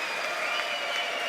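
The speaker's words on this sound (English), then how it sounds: "There's the clapping." Audience applause fills the chamber at the 2020 State of the Union, a dense, steady wash of many hands clapping at once with no break and no voices over it.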